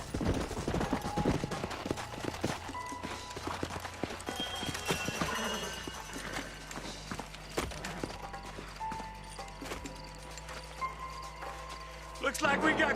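Horses in the Red Dead Redemption video game, with close clip-clop hoof steps and rustling tack, plus a brief whinny, under game music and characters talking.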